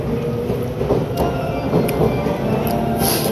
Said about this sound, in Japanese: いや電車の音いいですね。